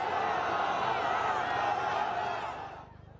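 A huge crowd of Palestinians surrounding an Israeli hostage handover to Red Cross vehicles, a dense roar of many voices with shouts rising over it, then fading away toward the end.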